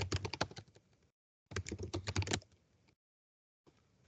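Computer keyboard typed in two quick bursts of close, crisp key clicks, with brief gaps of silence, then a fainter third burst at the end.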